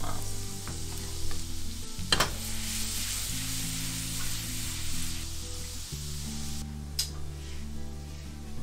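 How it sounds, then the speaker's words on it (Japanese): Garlic and chili sizzle steadily in a frying pan for a mackerel and komatsuna pasta, a soft continuous crackling hiss with occasional clicks and clatters of stirring over a low background hum. "今のところでニンニクと唐辛子を加えます。"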